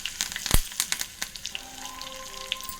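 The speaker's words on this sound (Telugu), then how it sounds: "ఎల్లుల్లిపాయ కూడా వేగాలి." Garlic sizzles in hot oil with ajwain seeds, giving irregular sharp pops and crackles over a soft frying hiss, with faint tonal clinks close by.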